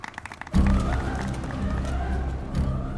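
Applause after a big smuggler is killed in a film scene, with light taps at first and then a sudden burst of crowd clapping that carries on steadily with some voices mixed in.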